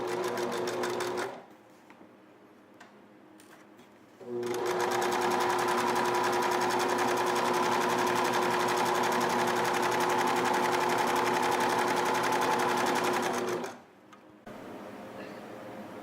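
A sewing machine runs in steady close bursts, stitching French seams on vintage camper awning panels, with one long continuous run between brief pauses.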